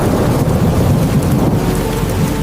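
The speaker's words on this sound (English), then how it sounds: "Water falling from clouds back to Earth is called precipitation." Steady rain falling with a low rumble that may be distant thunder, a dense continuous wash of sound filling the whole stretch without voices.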